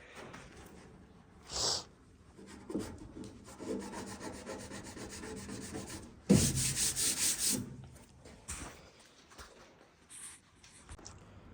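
Scraping frost off the tailgate of a GMC truck in freezing weather, a series of rough rubbing and scratching strokes, close and fairly loud, with a brief harsher burst partway through.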